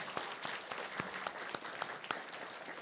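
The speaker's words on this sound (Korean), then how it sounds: "우리 큰 박수로 환영하도록 하겠습니다" A church congregation applauds to welcome singers, a soft, fairly distant patter of scattered handclaps with a few sharper individual claps standing out.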